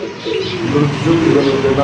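Pigeons cooing at a pigeon seller's stall, a soft murmur of coos running through the clip under steady background noise, with a voice present.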